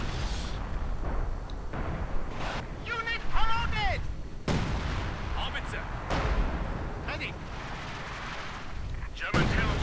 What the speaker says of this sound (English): there we go, artillery going straight down there